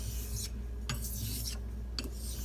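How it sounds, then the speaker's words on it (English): A straight razor is stroked one-handed across a Karasu Jnat natural whetstone in a steady rhythm of about five rasping passes, close and clear over a low background hum. "I'm honing like this, one hand."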